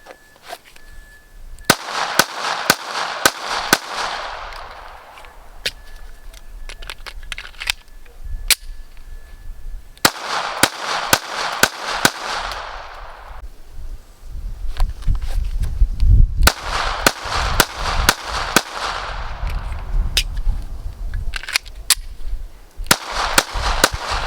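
A Taurus GX4 TORO pistol fires in three separate strings of sharp, loud shots with short pauses between them, with clicks and handling noise in the gaps.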